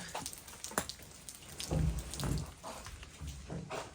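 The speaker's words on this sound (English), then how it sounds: "At least someone's happy about the rain." Rain patters steadily with scattered drops and a few heavier splashes, fairly close and moderately quiet, with no voices.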